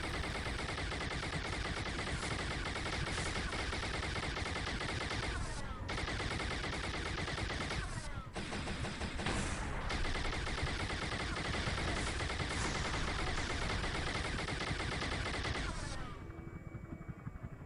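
Sustained rapid turret fire in Halo SPV3.2, dense and loud, with continuous automatic bursts and brief gaps that run almost unbroken for about sixteen seconds before cutting off.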